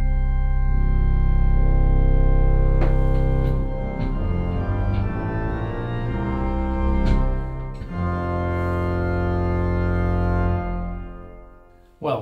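Baroque pipe organ pedal division from the Bückeburg sample set with all stops combined, deep sustained bass notes changing pitch, loud and full, ending in a brief reverberant release.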